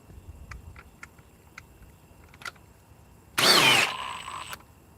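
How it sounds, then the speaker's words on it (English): An impact wrench gives one short, loud burst of hammering whir lasting about half a second, then a fading mechanical tone, against a quiet room with a few faint clicks before it. "with an impact wrench"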